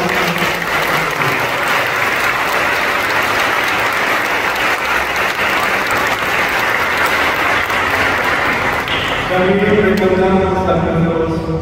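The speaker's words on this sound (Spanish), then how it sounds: "Prendemos un fuerte aplauso a él" Loud, sustained applause from a congregation fills a parish church during a Christmas Mass, steady throughout, then giving way near the end to a voice and a sustained tonal sound.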